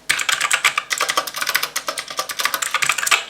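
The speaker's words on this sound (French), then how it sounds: "comme tout clavier mécanique, il est bruyant, et il est d'autant plus bruyant qu'il a tendance franchement à claquer" Rapid, uneven clacking of a G-Lab Keyz Carbon² mechanical keyboard with audible switches being typed on, close and crisp, with no voices.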